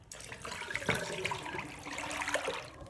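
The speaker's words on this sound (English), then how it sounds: "Now I'm going to cover this with my hand and pour out the water with any little bits of cauliflower." Water pours out of a bowl of cut cauliflower, held back by a hand, splashing steadily into a sink at moderate level with no talk.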